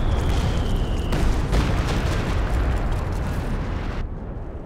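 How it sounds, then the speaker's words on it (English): Stuka dive bomber strike explosions in Company of Heroes 2, a loud rumbling barrage of blasts rolling continuously close by, with a faint rising whine early on, cutting off abruptly at the end. "Dodge away from the Stuka strike."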